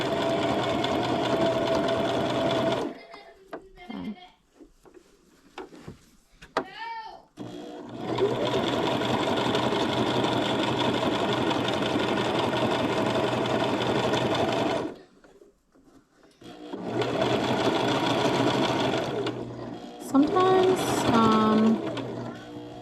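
Sewing machine stitching along a shirt collar, loud steady runs of rapid mechanical whirring broken by short pauses with faint handling noises, then resuming for long stretches.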